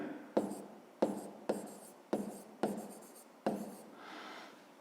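Pen strokes writing math on paper, six distinct scratchy bursts in an uneven rhythm, each a sharp onset that trails off, close and clear with no talking.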